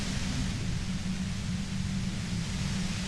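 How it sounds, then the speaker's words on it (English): A steady wash of hissing white noise from Disco Elysium fills the moment, even and unbroken, with a heavier low rumble underneath and no voices. "You hear through the white noise. It's especially bad suddenly."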